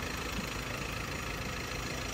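A Toyota Vigo pickup's 1KD diesel engine idles steadily after repair of a stalling and white-smoke fault, a constant close rumble with no talking.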